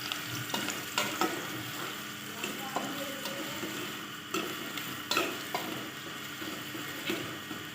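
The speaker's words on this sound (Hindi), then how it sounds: "अब हमारा तेल गर्म हो चुका है, इसमें कटे हुए प्याज डालें।" Chopped onions frying in hot oil, a steady sizzle with repeated stirring scrapes and clinks against the pan at irregular intervals throughout.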